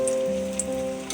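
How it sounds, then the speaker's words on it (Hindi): Bread pieces fry in hot ghee with a soft, steady sizzle and scattered faint pops, close by and brief, with no speech. "आपको इसे घी में फ्राई करना है।"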